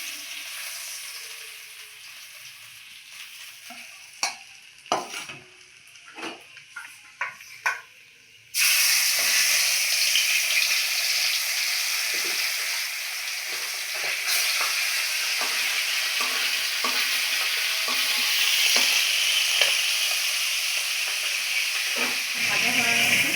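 Pomfret fish frying in a pan: a quieter spell of scattered clicks and spatula knocks gives way to a sudden, loud, sustained sizzle that carries on steadily with occasional crackles.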